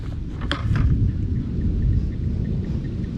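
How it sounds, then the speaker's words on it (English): Out in the open during a thunderstorm, a low continuous rumble of thunder rolls under steady rain, with a couple of sharp crackles early on and no voices. "it's still lightning and thundering"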